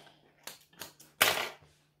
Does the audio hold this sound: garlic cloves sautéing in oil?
no